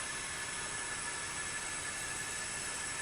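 A Big Boy locomotive runs on an N scale model train layout, making a steady, even whirring hum with a faint high whine that does not change over the short stretch.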